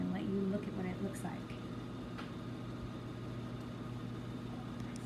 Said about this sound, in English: 1 minute for this microwave